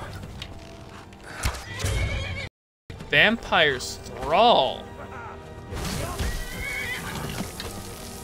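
A horse in the video game Skyrim whinnies in a few loud, shaky neighs amid clip-clop and clashing game noise, while a person talks over it.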